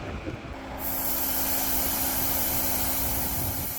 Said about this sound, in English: let's deflate the tires and then do some off-roading